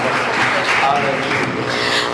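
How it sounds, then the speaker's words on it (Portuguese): A church congregation applauds at the inauguration of a new church, a loud, steady wash of clapping that fills the whole stretch without letting up, with voices mixed into it. "Vamos dar mais uma salva de palmas para Jesus"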